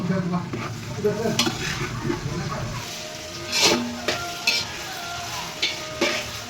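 Onion and tomato fry in hot oil for a Kolhapur-style dum biryani while a spoon stirs the pan, steady sizzling with several sharp scraping clinks of metal, close by.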